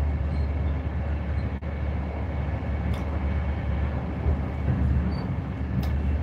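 A passenger train rumbles steadily along the rails, a low continuous hum and drone heard from inside, with a couple of faint clicks and thumps but no talk.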